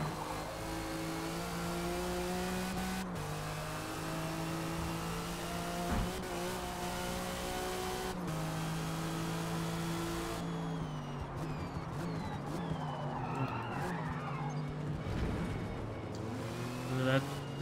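Porsche 935 race car in a video game racing session, its engine droning loud and steady with shifting pitch through gear changes and a few brief rasps, with a voice talking over it.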